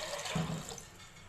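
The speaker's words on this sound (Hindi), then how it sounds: "अभी हम इसमें पानी ऐड कर देंगे" Water pours steadily into a pot of rinsed white beans (lobia), a soft, close, continuous trickle with no talking.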